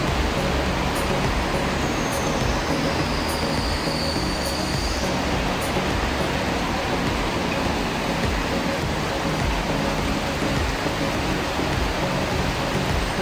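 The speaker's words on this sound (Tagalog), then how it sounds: "Lakas ng ulan, oh." Heavy rain pours down on floodwater in a loud, unbroken roar that fills the whole stretch, close and dense, with no voices.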